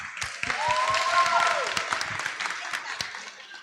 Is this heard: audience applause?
yes